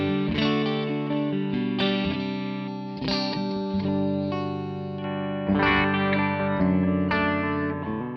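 Clean electric guitar through a Victory V40 amp with a little reverb, chords and single notes ringing out in a steady, unhurried pattern, close and clear with no talking.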